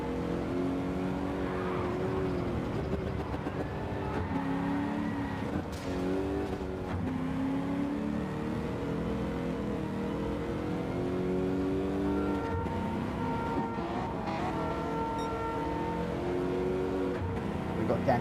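Race cars driving in the Gran Turismo 7 video game, including a Ferrari and a Datsun, with steady engine drone and shifting revs throughout.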